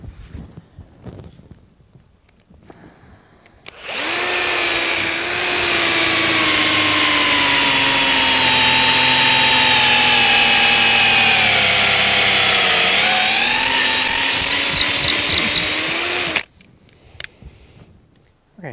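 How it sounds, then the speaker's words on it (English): A loud power drill whines steadily for about twelve seconds, its pitch dipping slightly as it bores a tapping hole into a maple tree trunk, then stops abruptly. "And so we'll go ahead and drill this hole now."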